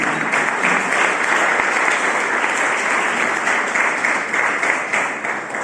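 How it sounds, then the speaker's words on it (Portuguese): A church congregation applauds after being seated, a dense steady wash of many hands clapping at close range, sustained evenly throughout with no voices standing out. "Dê um aplauso ao Senhor quando você se assentar."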